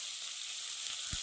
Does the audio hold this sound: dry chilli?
yes